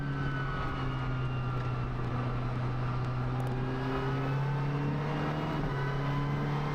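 A race car engine at the Okayama circuit during a Japan Cup race, high revs cutting out from a fuel pressure problem, droning loud and steady with rising harmonic whine throughout.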